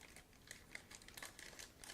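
A sealed plastic bag holding the body of a 1/24 scale Belkits Ford Fiesta RS WRC 2017 model car kit is opened, giving close, fairly quiet crinkling and rustling in irregular bursts without speech.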